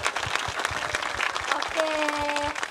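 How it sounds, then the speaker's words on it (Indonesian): Audience applause at a JKT48 theater show MC segment, a dense spread of claps running through the whole stretch under steady crowd noise, with a sustained tone entering near the end. "Jadi tepuk tangan buat Cika juga."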